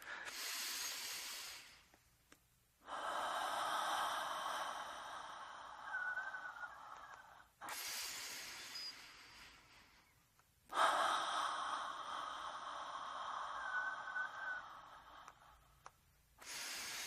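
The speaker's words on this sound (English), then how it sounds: "breathing deep and circular" Deep circular breathing during a bio-energetic release exercise, with long, loud, airy inhales and exhales in a continuous cycle, each breath running several seconds and separated by brief quiet gaps, close and without speech.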